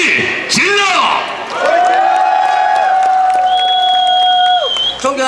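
Shouts and cheers rise from a crowd at an outdoor presidential election campaign rally, mixed with whoops, an amplified voice and sustained tones over the noise.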